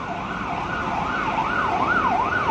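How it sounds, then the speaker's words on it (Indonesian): An ambulance siren wails in a rising and falling pattern, moderately loud over steady street traffic noise in Hong Kong, with no talking. "Maaf ada berisik ya, ada ambulans ya."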